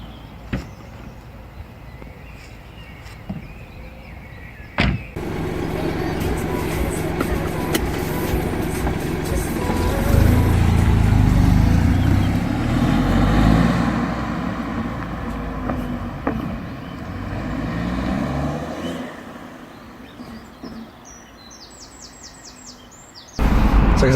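A 2017 BMW 218i three-cylinder fitted with a Racechip GTS tuning box drives along, its steady engine and road rumble swelling and easing at moderate volume with no clear talk.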